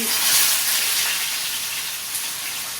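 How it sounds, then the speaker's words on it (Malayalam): Yellowfin scad sizzles in hot oil with a close, steady crackling hiss that fades slightly over a few seconds. "കിളിമീനും കൂടി ഞാൻ വറുക്കുന്നുണ്ട് കേട്ടോ"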